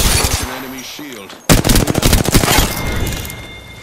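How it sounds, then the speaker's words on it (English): Automatic weapon fire in the Apex Legends battle royale game, Season 18: a sudden loud burst of rapid shots after a quieter stretch with a voice, then continued rattling gunfire with echoing impacts. "Opening fire."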